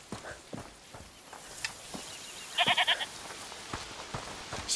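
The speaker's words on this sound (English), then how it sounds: "Is that the goat you talked about?" A goat bleats in the video game A Plague Tale: Requiem, a short quavering cry over quiet ambient outdoor noise and soft steps.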